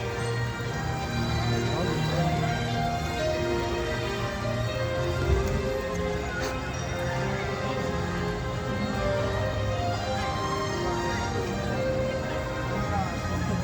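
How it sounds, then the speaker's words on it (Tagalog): Steady rain falling on a chilly day at Hong Kong Disneyland, a constant hiss and patter throughout with people talking nearby. "Umuulan pa."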